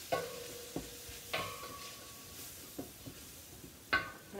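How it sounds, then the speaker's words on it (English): Spoon stirring Mexican vegetable soup with fresh cayenne in a pot, a few distinct metallic clinks and knocks against the rim over a faint bubbling simmer, close and quiet, no voices. "let me give this a little stir"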